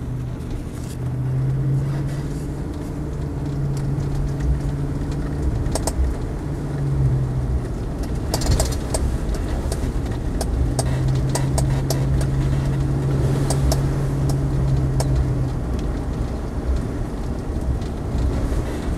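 A Land Rover Defender 90, 50th anniversary edition, driving with its engine running, a steady low rumble and road noise heard from inside, with the engine note swelling in two drawn-out stretches as it pulls.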